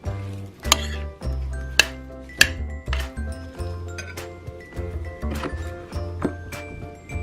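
Cucumber salad being stirred in a bowl, a close series of irregular clinks and taps of a utensil against the dish, with several sharper knocks and a soft low hum underneath.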